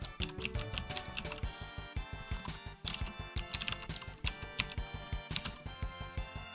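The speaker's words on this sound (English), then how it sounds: "That's the reason why I'm typing so slow." Someone types on a computer keyboard with a dense, steady run of close, crisp key clicks, cables draped over the keys, no talk over it.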